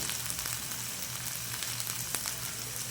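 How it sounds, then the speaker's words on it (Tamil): Ingredients for a potato dal curry fry in hot oil, giving a steady, fairly quiet sizzle with soft crackles, close by and without talk. "நல்லா வறுத்துட்டோம்."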